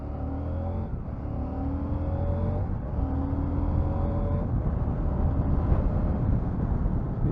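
A 2022 CFMOTO 800MT motorcycle engine pulls hard through the gears, its rising tone climbing, dropping at each shift and climbing again, steady and close over wind rush with no talking.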